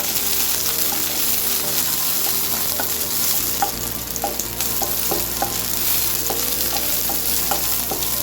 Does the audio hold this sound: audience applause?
no